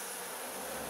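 A honeybee colony buzzes densely around a newly introduced queen, a close, continuous hum of many wings with no pauses and no voices.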